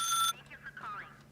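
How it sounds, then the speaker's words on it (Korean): A telephone rings in the horror video game The Suicide of Rachel Foster: a short, bright electronic trill up close that cuts off abruptly, followed by faint warbling tones. "전화 소리 때문에 중요한 뭔가 봐야 될 것들을 다 놓치고 온 것 같긴 한데"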